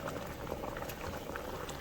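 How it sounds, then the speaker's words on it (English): Rice boiling hard in a pot for shrimp etouffee gives a close, dense, continuous bubbling and gurgling, quiet but steady, with no voices. "Now you see how this rice is, now see how it's boiling real hard?"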